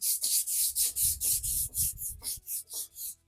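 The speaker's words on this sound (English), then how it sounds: "A little scuff here, some sandpaper." Sandpaper rubs back and forth over bare metal on a Volkswagen Bug during restoration, giving about a dozen close, steady rasping strokes in an even rhythm with no talking.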